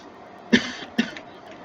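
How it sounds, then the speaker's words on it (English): A person coughs twice in quick succession at a computer, two short close coughs separated by about half a second over faint background noise. "I hate myself so much for coughing."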